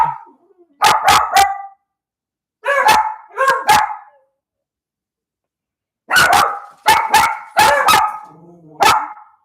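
Several dogs bark in loud, close bursts, set off by a loud explosion outside: a quick volley of barks, a short pause, a pair of barks, a longer silence, then a rapid run of barks with a faint whimper near the end.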